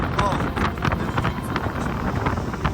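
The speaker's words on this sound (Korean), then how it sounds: "우와 바람" Strong gusting wind buffets the microphone high on Seoraksan mountain in autumn, a steady rough roar with repeated harder gusts throughout.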